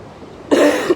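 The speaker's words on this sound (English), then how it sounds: "I've still got this lingering cough." A single harsh, lingering cough bursts out close to the mic after a moment of quiet room tone.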